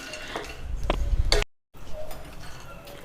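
Makhana (fox nuts) roasting in a pan, with close scraping, light clinks and rattles from stirring, then a brief silent break before quieter stirring resumes.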